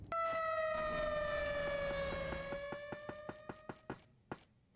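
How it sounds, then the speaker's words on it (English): An alarm siren in the video game Robot Alchemic Drive, a loud sustained wailing tone that slides in pitch, giving way to a series of sharp, evenly spaced mechanical pulses that fade out. "Why the siren going off?"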